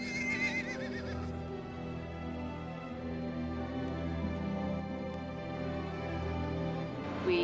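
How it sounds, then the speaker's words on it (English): A pony whinnies near the start, its high wavering call standing out over a steady low rumble, with hooves and movement continuing underneath, at an adventure race in Tibet and Nepal. "So then we grab our little pony, who is so amazing, so strong."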